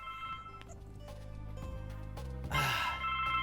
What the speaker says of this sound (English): welcome back to the ringing of a phone